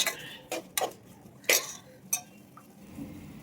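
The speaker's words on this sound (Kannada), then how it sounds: "ಉಪ್ಪನ್ನು ಹಾಕ್ಬಿಟ್ಟು ಚೆನ್ನಾಗಿ ಮಿಕ್ಸ್ ಮಾಡ್ಕೋಬೇಕು." A spoon scrapes and clinks against a pan while mushroom pulao is stirred after salt goes in, with a handful of separate sharp metallic knocks spaced irregularly, close and fairly quiet.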